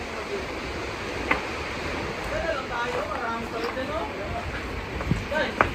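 Fairly large Pacific Ocean surf breaking on a beach makes a steady, rumbling wash, with wind buffeting the microphone and people talking over the top.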